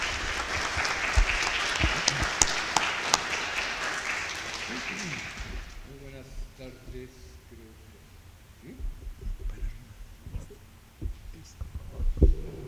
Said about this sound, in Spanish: Le damos la más cordial bienvenida al embajador Walter Astié con un caluroso aplauso